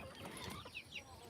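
Backyard chickens clucking softly, a few short, faint clucks and chirps over low ambient noise, with no talk.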